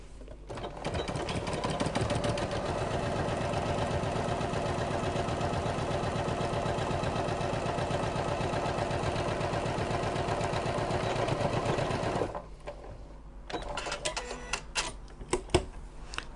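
A sewing machine stitches a quarter-inch seam through interfaced fabric for a medication bag organizer, with a steady, fast mechanical whir running unbroken for about twelve seconds before it stops, followed by a few light clicks and handling noises.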